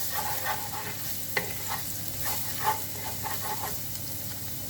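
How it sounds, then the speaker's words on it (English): Chopped garlic sizzles in oil in a skillet while cooking a shrimp and sausage penne alfredo, a steady soft frying hiss with a few light stirring scrapes and clicks, close and fairly quiet, with no talking. "Now we're going to add in that chopped garlic."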